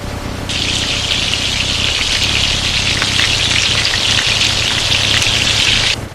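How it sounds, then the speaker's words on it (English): Loud, continuous crackling sizzle of chicken frying in hot oil in a large factory pressure fryer, starting abruptly and holding steady for several seconds before cutting off. "Listen to that sizzle."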